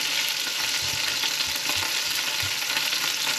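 Wild duck laid into hot fat in a pan, giving a close, steady crackling sizzle that carries on without pause and with no voices over it.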